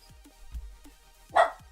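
A dog barks in the background, a few short, fairly faint barks spread irregularly, with one louder, harsher bark near the end; no one talks.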